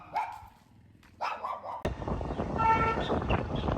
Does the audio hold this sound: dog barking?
yes